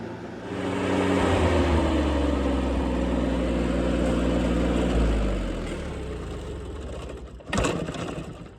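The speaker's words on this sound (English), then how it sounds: "That's how you know it's a good tractor, when it wants to keep running when you shut it off." A John Deere 322 lawn tractor engine runs loud and steady, then keeps chugging and sputtering at a lower pitch after being shut off before ending in a sharp final clunk.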